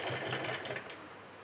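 A sewing machine stitches steadily along a folded neckline edge, its fast, even whirr running close and loud through the whole stretch with no talk over it.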